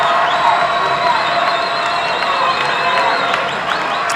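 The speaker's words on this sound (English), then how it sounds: "E-Town crowd rises to its feet," A crowd at a high school boys basketball championship game rises and cheers, a loud sustained roar of voices and whistles in an indoor gym, with an announcer talking over it.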